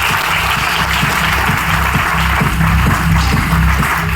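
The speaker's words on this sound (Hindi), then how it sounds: "इनके लिए दीदी के लिए जोरदार जबरदस्त तालियां साहब एक बार" A crowd at a company achievers' recognition event in Meerut, India, gives loud, sustained applause. The dense clapping runs steadily throughout.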